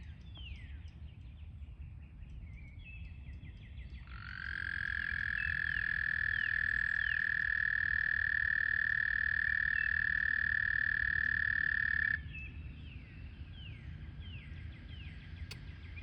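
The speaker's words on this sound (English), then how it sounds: "They're calling all the frogs to come over." Frogs call steadily in a chorus at the start of the breeding season, with one loud, sustained trilling call rising to the front for several seconds before fading back into the background calls.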